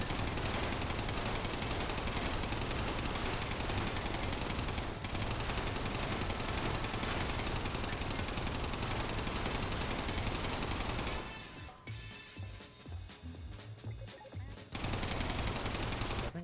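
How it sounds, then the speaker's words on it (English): Sustained machine gun fire in a video game, a dense continuous roar of rapid shots that breaks off briefly into scattered bursts before resuming at full intensity. "Why does it feel like their machine guns are more accurate than my machine gun?"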